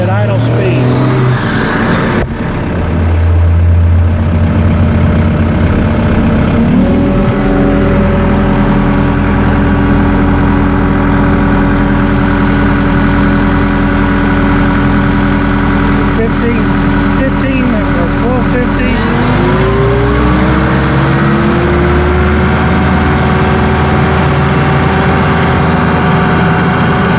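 A Massey Ferguson 2E.60 compact utility tractor engine idles close by with a loud, steady diesel drone, dipping briefly in pitch at a couple of points, and a person speaks over it.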